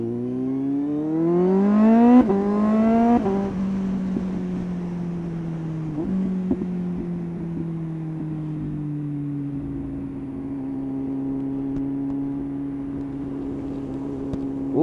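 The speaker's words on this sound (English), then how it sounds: "Love the noise of a quick shifter." A motorcycle with a quick shifter accelerates hard on a cold day, its engine note climbing quickly and then dropping sharply at a fast upshift, followed by a steadier drone with another quick shift and light wind noise on the microphone.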